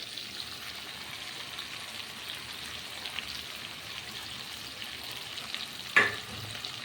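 Ginger garlic paste frying in a pan with softened tomato for a jackfruit and prawn curry, a steady soft sizzle like light rain, broken near the end by a single sharp clink of the stirring spoon.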